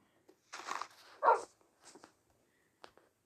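A few short dog barks and whimpers from a Minecraft dog, separated by pauses, fairly close and moderately loud.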